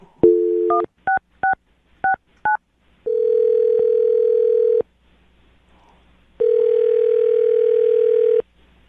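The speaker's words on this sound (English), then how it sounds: "I'm going to dial the phone number right now and see if we can get him on the phone" A few short touch-tone beeps are followed by two long ringback tones separated by a pause, clear and isolated.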